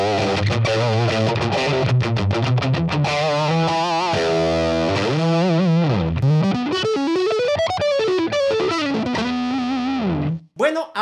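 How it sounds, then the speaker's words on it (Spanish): A Fender electric guitar plays through a simple distortion pedal: sustained, gritty distorted notes and bends ring out loud and close for several seconds, ending in a short cutoff and a few brief bursts. "Ahora vamos a añadirle un poco de distorsión y para esto utilizaré un simple pedal."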